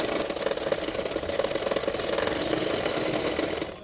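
A sewing machine stitching a blouse, a steady fast mechanical whirring hum with rapid rhythmic ticking, close and continuous before stopping abruptly at the end.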